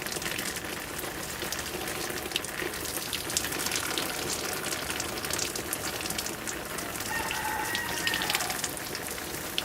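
Water pours from a copper watering can onto the soil of a Ficus benjamina bonsai, a steady soft splashing and trickling rinse that runs quietly and evenly throughout.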